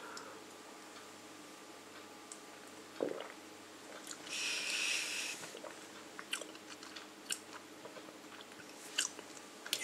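Quiet, close chewing of pomegranate as it is tasted, soft crunches and wet clicks scattered irregularly, with a brief brighter rustle in the middle and no speech.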